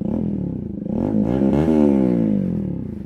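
A loud motorcycle engine revs up and back down close by, its pitch climbing to a peak and then dropping smoothly, with no voices.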